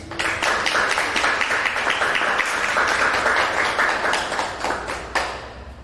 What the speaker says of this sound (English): Can we please give a round of applause for our May Fellow, Venus Jasper.